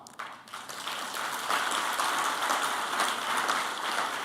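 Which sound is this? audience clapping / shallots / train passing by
audience clapping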